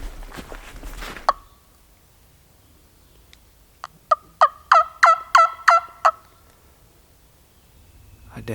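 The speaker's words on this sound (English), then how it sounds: "I definitely heard one gobble" A wild turkey in Alabama woods gobbles in a rapid run of about seven sharp notes, distinct against quiet woodland, after a brief earlier call.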